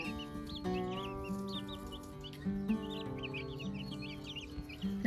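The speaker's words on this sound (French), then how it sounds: "Regardez-moi ce grand poulet là." Chickens cluck and chirp in short repeated calls over a tonal musical background. The birds are tame backyard hens and chicks, and they sound moderately close but fairly quiet.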